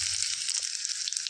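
Garlic cloves frying in two tablespoons of oil in a small pan for a tempering, giving a continuous close hiss of sizzling with no voices.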